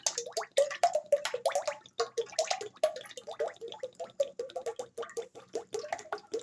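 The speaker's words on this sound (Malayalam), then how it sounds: "1 ലിറ്റർ എണ്ണയും നമ്മൾ മൊത്തത്തിൽ ഒഴിക്കുകയാണ്" A full litre of oil glugs into a pan from a bottle in a continuous, uneven stream of close, wet gurgles and splashes, with no talking over it.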